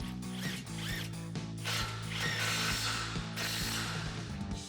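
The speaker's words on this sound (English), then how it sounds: "Get our nut back on, tighten that back down with our 21mm socket." A hand ratchet with a 21mm socket tightens the outer tie rod nut on a RAM 1500 during a front lift install, a steady run of quick close clicking strokes with no talking.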